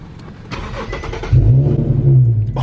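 An Infiniti Q50 car engine cranks and catches, then settles into a loud, close rumbling idle with a rising rev, preceded by a few clicks and handling noises.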